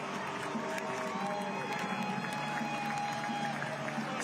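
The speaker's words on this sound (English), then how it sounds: "It's Tubbs, and he sends this crowd into a frenzy." A stadium crowd at a soccer match between Orange County SC and El Paso Locomotive FC roars and cheers after a goal. The noise is a steady, dense wash from start to finish, with no single voice standing out.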